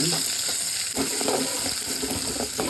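Steady sizzling of chillies, bay leaf and garam masala frying in hot oil, a continuous crackling hiss with occasional stirring clatter, close and fairly loud.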